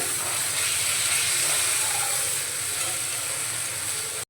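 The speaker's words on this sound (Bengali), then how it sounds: "তো এর মধ্যে এখন দিয়ে দেব পেঁয়াজ বাটা ও কুচিয়ে রাখা টমেটো। ভালো করে নাড়াচাড়া করে মিশিয়ে নেব।" Onion paste and chopped tomatoes frying in mustard oil, a steady close sizzle with faint stirring, no talking.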